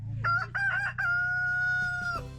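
A rooster crows once inside a chicken coop, a loud, close call with a few stuttering opening notes and then a long held tone. A soft low hum runs underneath, and a faint cluck sounds at the end.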